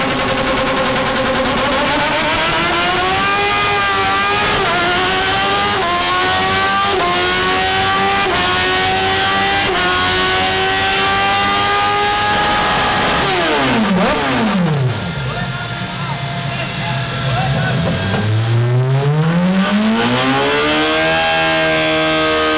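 A remapped, tuned Kawasaki Z1000 motorcycle engine revs hard and accelerates, its loud pitch climbing through gears, dropping and then rising again in a powerful roar.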